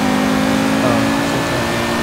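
A car engine in Forza Horizon 3 holds a steady, loud drone throughout during a street drag racing meet, with faint voices in the background.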